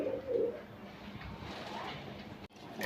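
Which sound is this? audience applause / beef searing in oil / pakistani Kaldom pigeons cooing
pakistani Kaldom pigeons cooing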